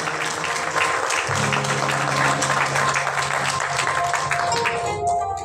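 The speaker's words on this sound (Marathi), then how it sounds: "तुमच्यासाठीच्या जोरदार टाळ्या मी आधीच वाजवून घेतल्या" An audience claps continuously at a Marathi film trailer launch, a dense, loud ovation that holds steady before fading toward the end.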